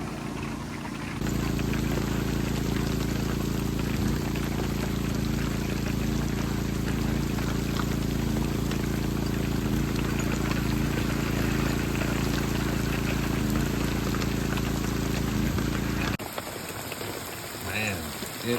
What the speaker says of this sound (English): Man, it is raining.